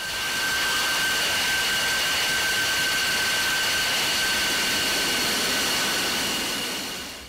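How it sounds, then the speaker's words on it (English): An F-22 Raptor fighter jet taxiing after landing at an air show gives off a steady, loud turbine whine with a high sustained tone over broadband roar, continuous throughout and fading slightly at the end. "Metz brings forward the F-22 over towards them and lets the plane take a bow."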